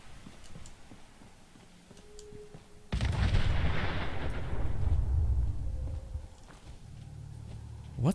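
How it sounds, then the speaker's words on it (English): Explosions in the video game Fallout 4: after quiet ambience, a sudden loud blast erupts and rolls on as a long rumbling, crackling roar that slowly decays, followed by lower residual noise and a faint final thump. "What is it with people exploding shit in front of me?"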